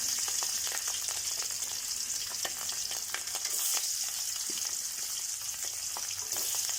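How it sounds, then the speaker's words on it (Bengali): Hilsa fish pieces fry in hot oil in a pan, a close, steady sizzle with crackling pops and occasional stirring sounds, no talking. "তেলটা গরম হয়ে আসলে তারপর আমি একে একে ইলিশ মাছগুলোকে ছেড়ে দেব"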